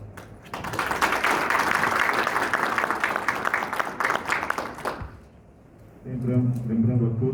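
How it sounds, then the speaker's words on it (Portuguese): Audience applause at a national meeting, a steady burst of dense clapping lasting about five seconds before dying away, followed by someone speaking into a microphone. "E agradeço com um aplauso."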